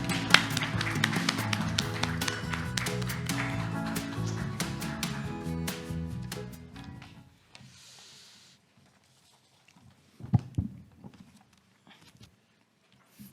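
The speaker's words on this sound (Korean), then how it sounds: "큰 박수 부탁드립니다." A seated audience at a Korean government interim briefing on a local tax revenue information system breaks into loud, dense applause for about seven seconds, then it fades to near silence with a few faint rustles.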